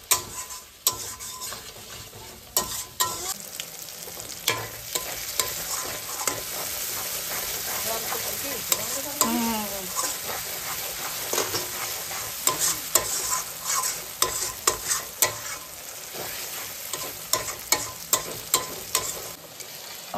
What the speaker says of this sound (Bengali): ভালো করে মশলাটাকে কষিয়ে নেব। এর মধ্যেই আমি দিয়ে দেব কিছুটা টমেটো